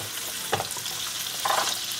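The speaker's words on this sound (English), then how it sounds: "Cooking shrimps all together for 2 minutes." Shrimp cook in a pan of butter and oil with a close, steady sizzle and a few brief spatters and stirring sounds over two seconds, no speech.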